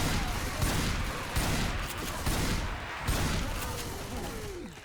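Gunfire in a video game: repeated bursts of rapid shots sounding roughly every second, loud and dense, mixed with booms and a harsh, noisy backdrop.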